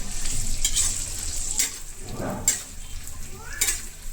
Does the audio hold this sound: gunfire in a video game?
no